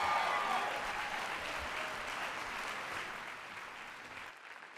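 Steady applause from a crowd at a Dr. Martin Luther King Jr. birthday celebration for poet Mario G after his poem. It rolls evenly for about four seconds, then cuts off into silence.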